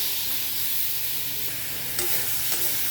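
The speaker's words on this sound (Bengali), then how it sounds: "আমি হালকা একটু আমটাকে ভেজে তারপর এর মধ্যে আমি জল দিয়ে দেবো।" Mango pieces fry over a low flame in a pan as part of a sweet and spicy Bengali chutney, giving a dense, even sizzle with a couple of brief clinks near the end and no voices.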